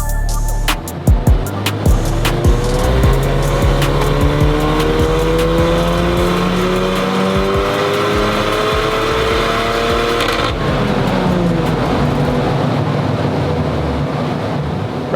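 An Audi S1 engine with a Stage 3 tune revs hard and steadily under load on a dyno, rising tones sweeping up repeatedly, loud and close, then dropping off near the end.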